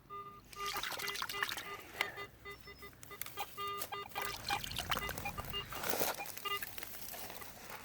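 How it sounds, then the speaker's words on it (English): An antique silver seated quarter dug from muck at an 1850s fairground is rinsed in water, giving close, soft trickling and splashing, with honking geese or ducks nearby. "Clean it up in the water."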